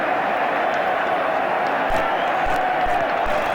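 A large football crowd at West Ham v QPR in 1974 roars in a continuous wash of cheering and booing, dense and steady, with scattered whistles and shouts.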